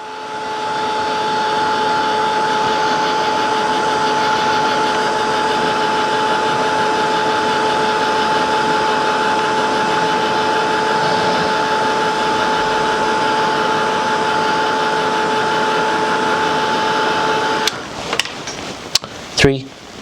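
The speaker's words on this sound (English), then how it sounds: "Let me dry this just a little bit and cut back." A heat tool blows steadily to dry watercolor paint, giving a continuous whooshing hum with a faint tonal whine, close and even for about seventeen seconds before shutting off amid a few handling clicks.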